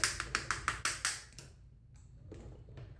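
A flat iron being clapped shut on hair, a quick series of about seven sharp, close taps, followed by quieter handling sounds.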